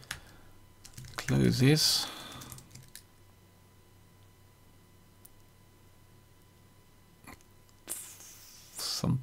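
Quick bursts of typing on a computer keyboard, close and crisp, come at the start and again near the end with a long quiet stretch between; a brief spoken word sits among the keystrokes.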